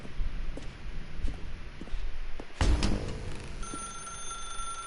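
A telephone rings in the video game The Stanley Parable, a bright, steady electronic ring that starts partway through and continues to the end after a sharp thump, under a faint room hum.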